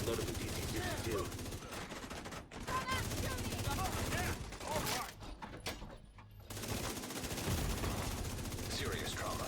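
Gunfire in The Division 2, with repeated rapid bursts and shots crackling loudly amid game effects, while a player talks over parts of it.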